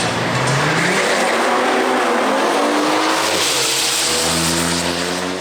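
BMW 335d diesel launching at a European drag racing event, loud nearby engine rising in pitch through a gear change then climbing again, with tire noise under the roar.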